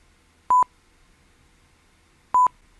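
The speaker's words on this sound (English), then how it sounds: "did you hear the double beep?" Two short, clear electronic beeps about two seconds apart from a Barcrest The Crystal Maze slot machine, sharp and isolated against near silence.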